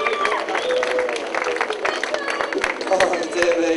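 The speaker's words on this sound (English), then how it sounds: "Give her a nice round of applause there" Audience at a magic show claps for a volunteer, a dense patter of applause with a few cheers, loud and close throughout the short burst.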